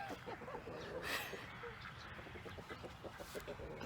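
Rooster clucking on a small farm, a run of rhythmic, close clucks interspersed with other fowl noises and a bit of background voice.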